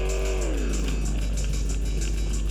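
A car engine driven by a bear in the physics game Enviro-Bear 2000, a steady droning hum with a falling pitch sweep and faint clattering over it, continuous and close, with no speech.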